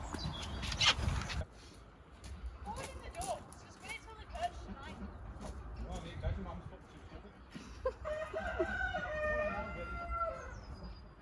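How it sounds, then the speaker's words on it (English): Chickens cluck and a rooster crows on a smallholding, the crowing clearer near the end, with people talking throughout and a loud burst at the start. "we need to catch them chickens"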